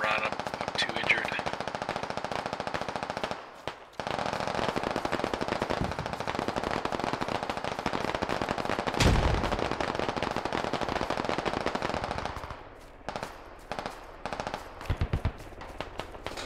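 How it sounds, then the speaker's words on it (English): Sustained suppressive machine-gun fire in the video game Squad, rapid continuous automatic bursts, loud and close, with a few brief pauses and sporadic shots toward the end. "Throw suppressive fire."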